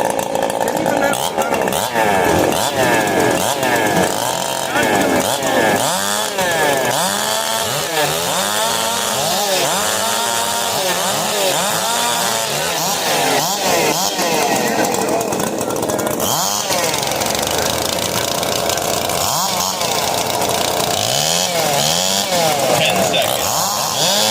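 Several chainsaws rev and idle together in a loud, continuous snarl during a timed warm-up at the SawFest 5 Cube wood-cutting competition, with rising and falling engine pitches overlapping and people talking underneath.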